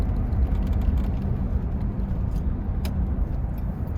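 A 1994 Oldsmobile Silhouette minivan drives along a city road, heard from inside as a steady low rumble of engine and road noise with a faint click, no talking.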